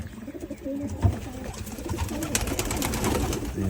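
Pigeons in a loft, with soft cooing and fluttering bird sounds close by, mixed with rustling and a brief thump, continuous over a few seconds.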